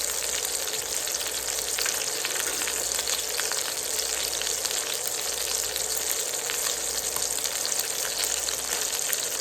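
Small pieces of butter sizzle alongside an NY strip steak in a cast iron pan, making a constant close crackling fry with fine spattering pops throughout and no voices.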